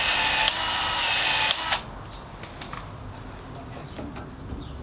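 An expansion tool whirs loudly for under two seconds as it expands a PEX pipe end and O-ring, then stops, leaving quiet room noise with a few small clicks.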